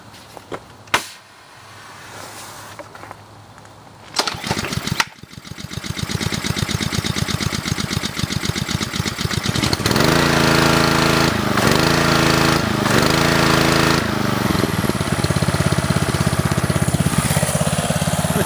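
A Ryobi pressure washer's small engine starts up and settles into a loud, steady idle with a rapid mechanical chug, running continuously with no talk.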